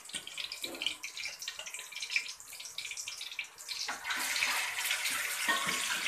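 Beef trotters (paye) dropped into about two cups of hot oil in a home kitchen and frying, giving a steady, fairly loud hiss and crackle that grows denser partway through, with no talking.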